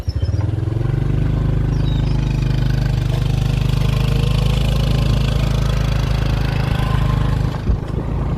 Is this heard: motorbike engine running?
yes